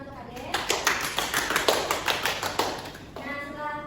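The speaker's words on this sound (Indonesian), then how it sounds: "Beri tepuk tangan untuk Kak Dek." A class claps for a student during a mathematics lesson: a short run of sharp, rhythmic hand claps lasting about three seconds, followed by a voice resuming.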